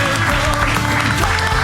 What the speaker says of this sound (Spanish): Un aplauso para Marco